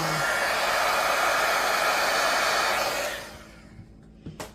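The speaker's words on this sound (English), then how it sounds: "I'm going to heat gun the top a little bit of the resin" A heat gun blows steadily across freshly mixed resin in a frangipani coaster mold, a loud, even rush of hot air for about three seconds before cutting off, leaving faint handling taps.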